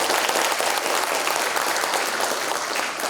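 Sustained applause from a crowd, dense and even clapping throughout with no talking.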